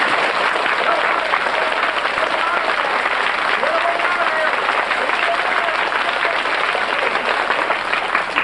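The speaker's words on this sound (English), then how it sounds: "we've got to clap louder than before, but not as loud as we possibly can clap." A room full of children clapping together, a dense, steady wash of applause that holds at a strong, even level throughout with no pauses.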